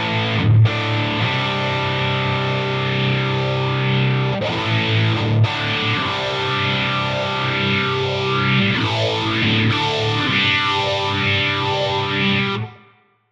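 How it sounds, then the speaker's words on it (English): Electric guitar played through a TONEX phaser effect with the mix turned up, sustained distorted chords sweeping in a whooshing, swirling motion, loud and alone, with a couple of restrikes before ringing out and cutting off. "we're going to kind of maximize the mix of the phaser effect into there."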